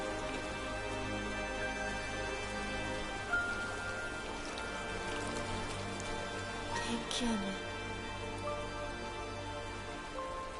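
Steady rain falls in the video game Silent Hill f, a continuous soft hiss of drops with faint voices murmuring underneath.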